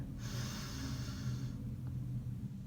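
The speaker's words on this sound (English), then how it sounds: "breathing in through your nose, you allow your belly to round out as you inhale" A slow nasal inhale drawn in through the nose during a belly-breathing exercise, a steady airy rush lasting over a second, close and fairly soft, with no talking.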